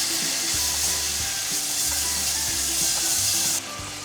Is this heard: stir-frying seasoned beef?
yes